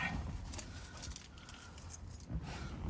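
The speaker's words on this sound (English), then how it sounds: "now I got to dig the keys out of my pocket" Keys jangle faintly while being dug out of a pocket beside a Porsche 944, a steady rustling clink with no talk.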